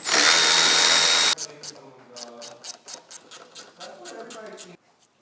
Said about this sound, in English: To remove the old motor, just go ahead and use a 10 millimeter.